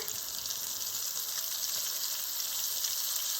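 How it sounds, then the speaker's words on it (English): Steak pieces browning in a hot pan, a steady, even sizzle of fat and juices with a constant hiss, close and moderately quiet throughout. "We just want to brown them a little bit."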